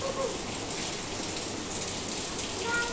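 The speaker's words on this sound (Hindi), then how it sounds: "बारिश बहुत ज़्यादा ही तेज़ हो गई।" Steady, dense rainfall pours down without pause, a loud continuous hiss of drops hitting surfaces close by.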